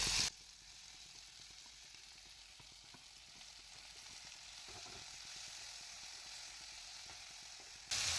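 Chopped tomato pieces frying in a kadai on a gas stove give a steady, faint sizzle that runs unbroken for several seconds, with soft stirring scrapes now and then and no voices.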